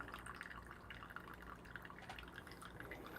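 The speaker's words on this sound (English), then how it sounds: "the water is dripping" Water dripping from a coffee machine into a bowl, quick faint drips in an uneven patter over a soft background, no voices.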